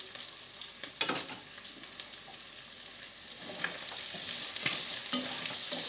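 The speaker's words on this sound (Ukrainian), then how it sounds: "Всипаємо сюди половину е, цієї цибулі. Половину. І обсмажуємо ще з цибулею." Chopped onion frying in rendered fat is stirred around a pan, with a constant gentle sizzle and intermittent scraping and clacking from the utensil, close and fairly quiet.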